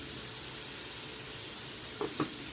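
Liver frying in a pan with garlic, black pepper and salt, a steady close sizzle with a couple of faint clinks near the end, and no voices.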